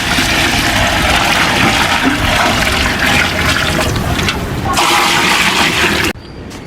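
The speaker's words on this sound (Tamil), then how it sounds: "அடுத்தது நம்ம பிரியாணி தேவையான அளவு தண்ணி ஊற்றிக்கலாங்க." Water pours steadily into a biryani pot with marinated chicken, a loud continuous gushing splash for about six seconds before cutting off abruptly, leaving quieter room noise.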